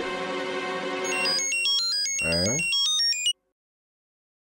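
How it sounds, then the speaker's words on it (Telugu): A phone ringtone plays loud and close, a bright electronic melody of stepping tones with a brief sweeping flourish, then cuts off abruptly into silence. "సార్ రింగ్ అవుతుంది మాట్లాడు."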